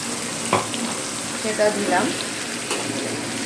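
Tomato paste sizzles in a hot pan as it is stirred, a steady frying hiss with a few scraping stir strokes, close and moderately loud, with no speech.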